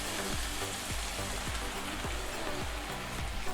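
Fried rice with pineapple chunks cooking in a pan, a loud continuous sizzle with a regular pulsing rhythm of thuds, as if stirred or tossed repeatedly.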